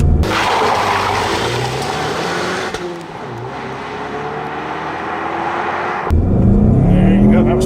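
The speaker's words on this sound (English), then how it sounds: "Think I can get some wheel spin?" A 2015 Ford Mustang EcoBoost launches hard with wheel spin: a loud, close engine roar and continuous tire noise for several seconds, ending in a sudden shift in tone near the end. Voices are faintly present.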